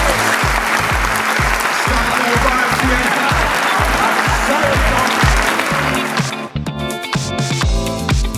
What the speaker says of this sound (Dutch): uw gewaardeerde applaus voor Remco Klaassen